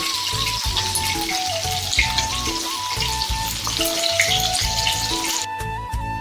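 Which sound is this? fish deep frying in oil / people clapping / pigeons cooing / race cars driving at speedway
fish deep frying in oil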